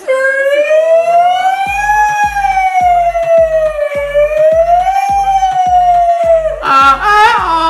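A voice mimics a fire engine siren with a loud, sustained wailing tone that rises and dips slowly, accompanied by a steady low rhythmic pulsing and ending in a rough harmonic burst.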